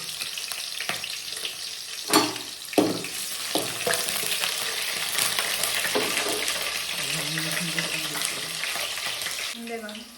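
Green chillies fry in hot oil in a pan for Karnataka-style mutton chops, with a steady sizzle, scattered sharp clinks and scraping from stirring, and a brief voice near the end.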